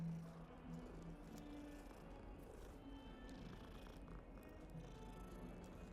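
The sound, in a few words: cat purring while petted in Hogwarts Legacy video game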